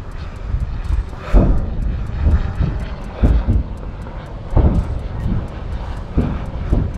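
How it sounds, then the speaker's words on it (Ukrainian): A small reconnaissance drone over Bakhmut, its engine droning continuously while gusts of wind batter the microphone in loud, repeated bursts. "несет дрон, несет дрон, несет"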